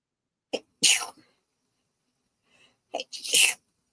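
Two sneezes in a hotel room, a sharp one near the start and a second about two and a half seconds later, each loud and close, with short quiet gaps around them.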